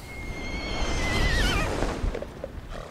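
A horse in Kingdom Hearts III lets out one loud, close whinny, its pitch wavering and falling for about a second and a half before fading into soft background game sound.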